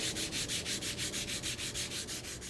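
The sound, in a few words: sanding car tow hook cover with 800 grit sandpaper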